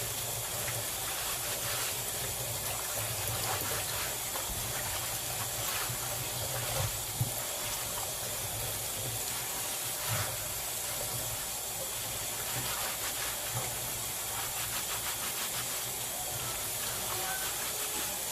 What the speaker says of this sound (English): And as the water is coming, you still want to scrub